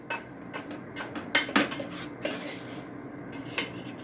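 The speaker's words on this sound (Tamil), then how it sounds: "இப்போ நம்ம கலந்து வச்சுருக்க பவுடரில் இதையும் போட்டு நல்லா மிக்ஸ் பண்ணி விட்டுருங்க." A spoon clinks and scrapes against a metal vessel while roasted urad dal is mixed into a powder for urad dal laddoos: irregular close knocks and rattles with short quiet gaps, no talking.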